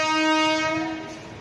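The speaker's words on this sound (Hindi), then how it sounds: "आप देख रहे हैं मेरे पीछे रेलवे जा रही है।" A train at a busy railway station established in 1864 with seven platforms gives a long, loud, steady multi-tone horn blast that holds for over a second before cutting off abruptly.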